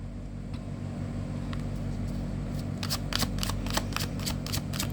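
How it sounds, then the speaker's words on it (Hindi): Tarot cards shuffled by hand in a quiet room, with a few soft riffles giving way to a quick rapid run of crisp card flutters near the end. "Last shuffle."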